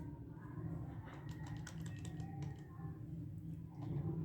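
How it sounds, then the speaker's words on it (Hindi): Soft clicking keystrokes on a computer keyboard while a drive size is entered during a Windows 10 installation, a quiet irregular patter of taps over a low background hum. "कीबोर्ड की मदद से आपने लिखा"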